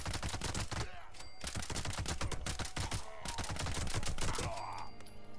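An anti-armor submachine gun fires in Fallout 76, loud rapid automatic bursts of dense, evenly spaced shots with only a brief pause between volleys.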